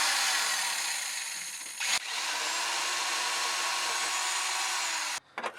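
A power drill bores holes through the steel chassis of a KA turbo Nissan 240SX drift car, one long steady high-pitched whine that halts briefly near the middle and cuts off at the end.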